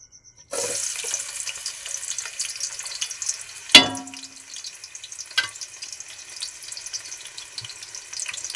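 Onion pieces sizzle in hot oil in a pan: a steady frying hiss starts abruptly and continues throughout, broken by one sharp utensil clank and a softer knock, with no voices.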